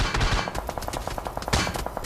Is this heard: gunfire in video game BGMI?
yes